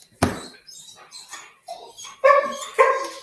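A pet dog barks and yips indoors, a sharp bark followed by softer whimpers and two more loud barks close by.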